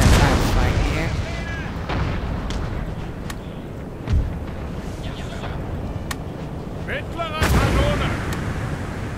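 Cannon artillery booms and crackles through a Napoleon Total War battle, with several heavy shots rolling out over dense continuous battle noise, the loudest bursts near the start and toward the end, while someone talks over it.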